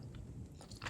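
Close, moist chewing of Vietnamese Bún Bò Huế, spicy Hue beef noodle soup, with soft crunchy bites and wet mouth sounds repeating steadily for about a second, no talking.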